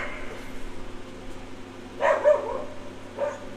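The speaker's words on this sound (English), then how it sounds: "my Bailey out there, my dog." A dog named Bailey barks outside at night, two muffled, distant barks a second apart over a low steady room hum.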